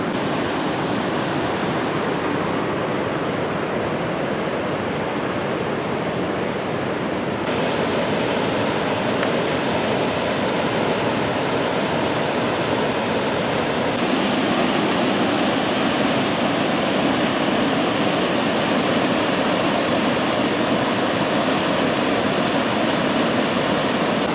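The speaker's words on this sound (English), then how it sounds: "It's Cave Falls." Cave Falls, a wide waterfall on a river in Yellowstone, pours as a loud, steady roar of rushing water that stays continuous throughout and grows slightly fuller partway through, with no voices.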